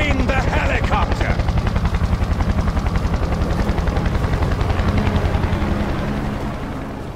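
A helicopter in the video game Far Cry 4, loud and close, its rotor chopping in a rapid steady pulse beneath a speaking voice, fading slightly toward the end.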